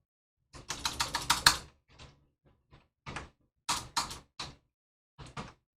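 Fingers typing commands on a computer keyboard, close and crisp: a quick burst of clustered keystrokes, a few scattered taps, then more short groups of clicks separated by silence.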